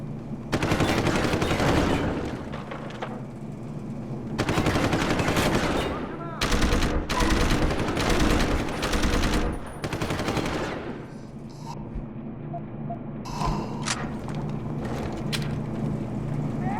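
Bursts of automatic gunfire and shots from a firefight in the PC game Deus Ex: Human Revolution Director's Cut, loud and close, arriving in several dense volleys separated by brief pauses, with a steady rumbling game ambience running underneath.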